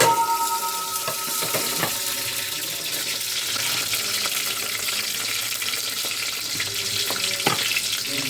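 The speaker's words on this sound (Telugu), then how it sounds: "ఇప్పుడు హోల్ గరం మసాలా వేసేసుకుందాం." Whole garam masala spices frying in hot oil for chicken biryani, a steady close sizzle with occasional sharper crackles and faint metallic clinks, no voices.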